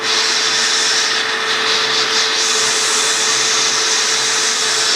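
A vacuum cleaner sucks steadily while cleaning out a car's diesel particulate filter, a loud, continuous close-up whoosh with a slight wavering in the middle and no talking.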